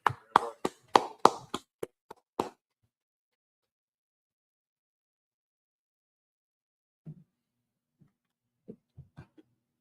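Brief scattered clapping from a small class group, about eight quick claps in a short burst that stops abruptly, followed by silence and a few faint taps and murmurs.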